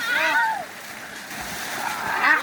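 Water splashes and churns as people bathe in a small pond, a steady wash of noise with excited voices and shouts over it.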